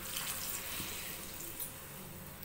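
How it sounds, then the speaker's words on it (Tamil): Water pours steadily into a pot of vegetables being cooked for sambar rice (bisibelebath), a close, continuous rushing splash that runs for the whole moment with no talking. "காய் வேகிறதுக்கு தண்ணி ஊற்றிக்கலாம்."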